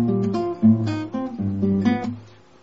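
Acoustic guitar fingerpicking in which the melody notes are cut short instead of ringing, giving a choppy line of plucked notes over bass notes. It is brief, close and solo, with no voices.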